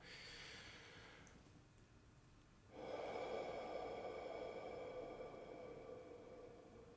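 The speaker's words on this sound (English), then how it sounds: "long exhale" A long, slow exhaled breath taken while sitting upright with feet flat, a soft steady airy rush that swells midway and fades gradually, close and alone without talk.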